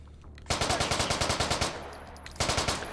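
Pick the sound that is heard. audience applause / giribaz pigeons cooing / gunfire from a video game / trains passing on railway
gunfire from a video game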